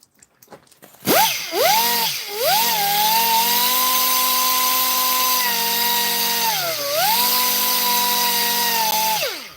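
A handheld Dremel rotary tool polishes support marks off a 3D-printed part, starting with a couple of short whirring bursts and then settling into a steady high-pitched whine. The whine dips briefly twice under load, and it is close and loud with no talk.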